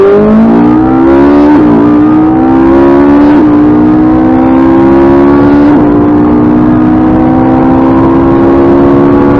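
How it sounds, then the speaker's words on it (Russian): A Ferrari 458 and an Audi RS3 launch in a drag race, giving a loud, sustained engine roar that climbs steadily through several quick gear shifts, close and continuous with no voices. "Феррари против RS3."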